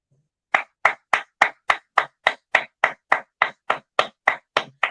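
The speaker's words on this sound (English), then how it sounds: "Miss, I'm gonna applaud you right now." A single person on a morning radio show claps hands alone, about sixteen crisp, evenly spaced claps at a steady slow tempo, close and clear against silence.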